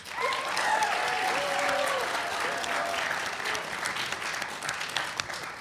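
A studio audience at a Texas middle school quiz show applauds the competing teams in a loud, steady wash of clapping that holds for several seconds before thinning slightly toward the end.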